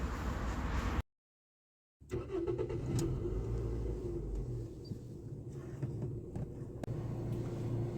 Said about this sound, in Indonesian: kita langsung tes drive aja mobil ini